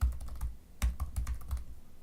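A shop name typed on a computer keyboard, a quick run of close, crisp key clicks in uneven bursts with a brief pause midway, heard alone without speech.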